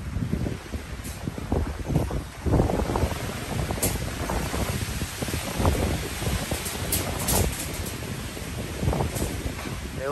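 Strong storm wind gusting around the fourth-floor level of a large orchid garden, a steady loud roar with heavier rushing bursts that rise and fall throughout.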